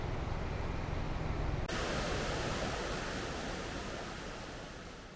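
The Banias stream flows in a steady, broadband rush of water, loud and continuous with no voices over it.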